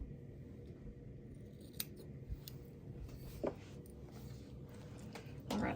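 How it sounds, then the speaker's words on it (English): Fabric pieces for a spring basket quilt block trimmed with scissors, giving a few quiet, scattered snips over a low steady background hum, with a slightly louder cut near the end. "I'm going to go ahead and just trim those off"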